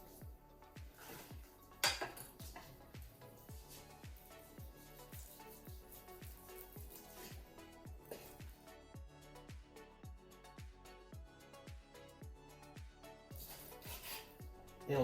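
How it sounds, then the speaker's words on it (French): Knife cutting meat into small pieces for a pork pie, a rapid, regular series of short scraping chops against a board, fairly faint, with no talking. "Ensuite, on va la couper en petits morceaux."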